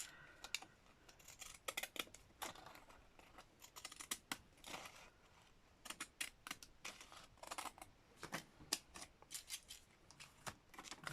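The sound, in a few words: scissors cutting thin paper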